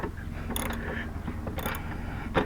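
A ratchet turns 11/16 nuts on a van swivel base, producing repeated close metallic clicks and short grinding bursts over a steady low hum.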